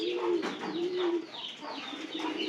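A pigeon coos up close, giving a few soft, throaty rolling calls in a quiet space.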